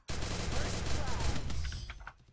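Rapid gunfire in a shooter video game, a dense, loud burst of overlapping shots that holds for about a second and a half and then thins out as it fades.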